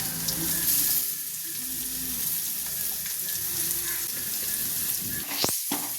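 Fennel seeds, garlic, cloves, cinnamon and bay leaf fry in hot oil for a chicken curry, a close, constant crackling sizzle with occasional stirring scrapes and a clatter near the end, no voices.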